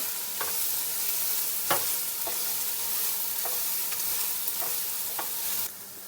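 Crushed ginger and garlic stirred in hot oil in a frying pan for a dry chicken fry, a continuous loud sizzle broken by several sharp scraping strokes of the spoon against the pan, close up with no talking.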